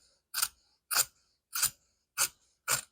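Scissors held upright snip through fabric being cut for a zipper pouch, five crisp, evenly spaced cuts about half a second apart, close and clear with silence between.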